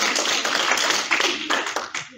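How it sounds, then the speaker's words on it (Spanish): Audience clapping after a correct answer in a quiz segment, a short, fairly close burst of hand claps with uneven rhythm lasting about two seconds. "los aplausos, por favor"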